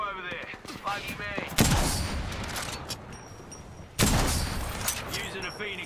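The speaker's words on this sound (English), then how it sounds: "I'm under fire." Automatic weapon fire in the battle royale shooter Apex Legends: loud, dense bursts of rapid shots in two main volleys, close and booming, mixed with game voice lines and talk.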